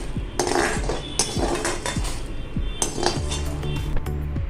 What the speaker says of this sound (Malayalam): അത് വേറെ പ്ലാറ്റ് പ്ലേറ്റിലേക്ക് മാറ്റുകയാണ്